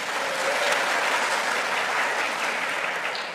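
A church congregation gathered for a Sunday men's fellowship celebration claps together in a sustained, even burst of applause, a dense wash of hands heard up close with no voices over it.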